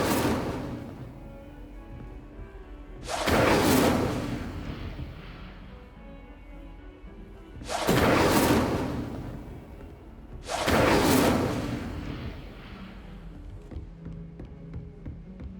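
Incendio fire spell cast in Hogwarts Legacy: three loud, broad whooshing fire bursts a few seconds apart, each swelling and fading over a constant low game ambience.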